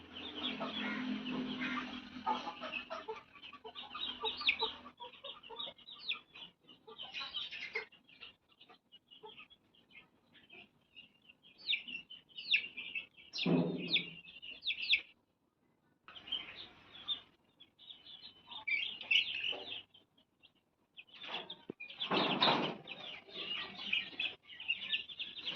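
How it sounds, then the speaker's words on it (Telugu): Bhimavaram breed rooster chicks chirping in a steady, busy stream of high, thin peeps, close and fairly loud throughout, with short gaps and occasional louder bursts; no talking. "చాలా మట్టికి పుంజు పిల్లలే ఉన్నాయండి. ఇది కూడా పుంజు పిల్లే."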